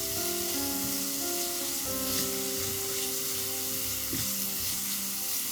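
Chicken mince sautéing in a pan, giving a constant close sizzling hiss with occasional stirring scrapes, with a steady hum running underneath.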